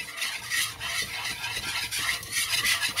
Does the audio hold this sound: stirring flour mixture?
yes